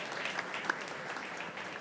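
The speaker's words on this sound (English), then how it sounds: "Please give him a round of applause." Audience applause at a Stop Food Waste Day event, a steady dense patter of many hands clapping at moderate volume, filling the brief moment without a break.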